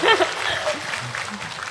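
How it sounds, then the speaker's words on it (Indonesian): An audience at a large religious gathering in Taiwan applauds in a continuous, fairly loud spread of clapping, with a voice and faint laughter mixed in near the start. "Ayo boleh berikan tepuk tangan dulu pada semuanya."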